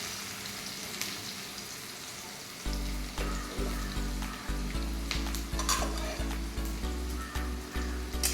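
Onions sauté in a pan for gravy, a steady sizzle under repeated stirring strokes that scrape in a regular rhythm, close and fairly loud.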